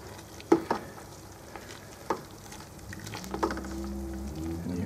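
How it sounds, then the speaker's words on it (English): A spoon pushes hops down into liquid during home brewing, with a few sharp knocks against the pot and soft swishing stirs, followed by a low steady rumble from the brew kettle. "just grab the spoon and just get them all down there into the liquid"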